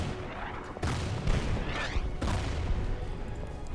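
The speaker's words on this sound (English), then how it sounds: "And let's get our artillery in." Artillery fire rumbles in the video game Order of Battle Pacific, a continuous loud barrage with two sharper bursts cutting through the heavy low rumble.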